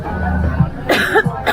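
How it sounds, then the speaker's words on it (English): A woman coughs close by in a few sharp, harsh bursts on a cruise ship outing at Maho Beach, St Maarten, with faint background noise. "She's coughing."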